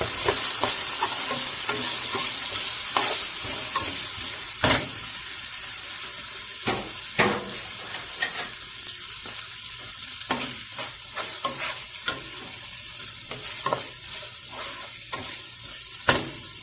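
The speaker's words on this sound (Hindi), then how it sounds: "अब इसी ऑयल में हम डालेंगे ऑनियन," Onions fry in hot oil for chicken cacciatore, a loud steady sizzle with frequent stirring scrapes and clacks of a utensil against the pan, close up and without talk.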